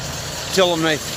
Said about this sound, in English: Got the old tractor going along over here.